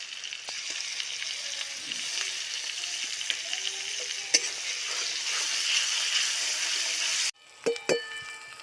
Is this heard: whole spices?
yes